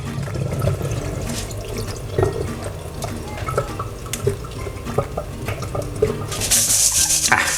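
Water splashing and draining from a pot of washed mung beans, with clinks and trickles close by, then a brighter gush of pouring near the end.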